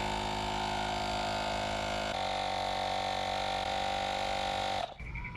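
An electric pump inflating a motorcycle's rear tire gives a steady, close buzzing whine with a constant hum for several seconds, then cuts off abruptly near the end when it stops on its own.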